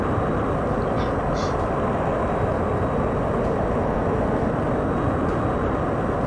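Airliner engines from the X-Plane 11 flight simulator, flying a Tupolev jet, make a dense, continuous broadband roar that stays loud and even throughout with no variation.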